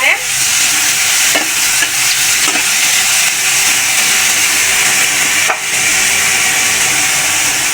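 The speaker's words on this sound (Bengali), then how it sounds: "আমার কিন্তু এই যে রসুন পেঁয়াজগুলো হচ্ছে ভাজা হয়ে গেছে, এগুলো এখন তুলে নেব।" Garlic and onion frying in oil for a goat-meat mash, stirred with a wooden spoon: a loud, steady sizzle and hiss fills the whole stretch, with a few brief scraping knocks, and no talk.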